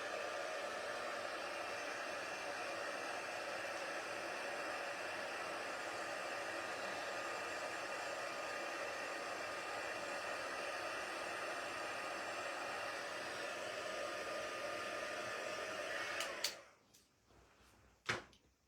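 Heat tool melting embossing powder on a stamped card, a steady close blower roar with a hissing airflow that runs for about 16 seconds, then cuts off, followed by a couple of handling clicks.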